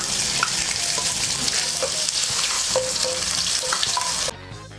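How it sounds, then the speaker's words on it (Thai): Bologna stir-fries in hot oil in a pan, a loud, steady sizzle with occasional scraping clinks of a utensil, then drops off sharply near the end. "แล้วก็ใส่ตัวโบโลน่า ลงไปผัดนะ"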